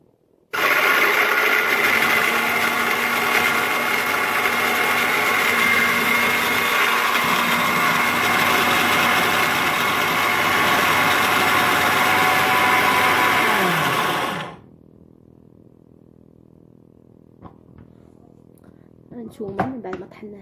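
An electric grinder whirs loudly and steadily through dried orange peels for about fourteen seconds, then cuts off abruptly, leaving a quiet hum and faint handling noises.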